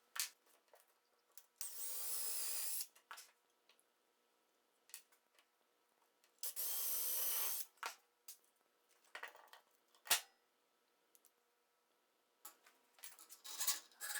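Several bursts of a high-pitched power drill whining through a knife handle, two long runs and shorter ones, separated by clicks, handling noise and quiet gaps.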